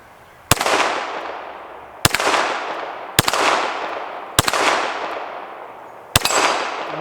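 Five sharp, loud pistol shots from a Canik TTI Combat fired at a steel plate outdoors, spaced irregularly about a second apart, each with a crisp crack and a long ringing decay.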